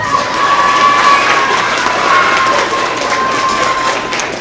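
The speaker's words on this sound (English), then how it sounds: "One more big round of applause for Bella." A school award assembly audience of elementary students breaks into loud applause mixed with cheering and children's shouts, a dense, sustained crowd roar filling a large room.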